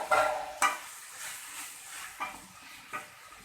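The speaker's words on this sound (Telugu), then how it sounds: "ఇలా ఫ్రై చేసేసుకోవాలి" Gongura leaves fry in hot oil in a pan while a spatula stirs them, giving several distinct scraping strokes over a soft, steady sizzle, close by and with no voices.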